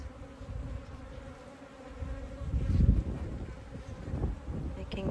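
Africanized bees swarm and buzz around a hive built inside a water meter box, a dense steady drone close to the microphone that swells louder in the middle of the stretch, with no talking.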